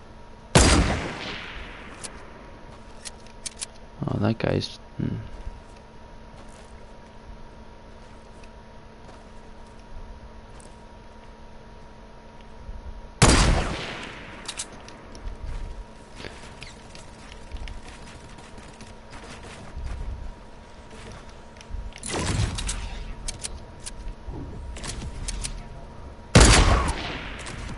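Sniper rifle shots in the video game Fortnite: a few sharp, loud cracks spaced far apart over steady game ambience, with a brief voice near the start.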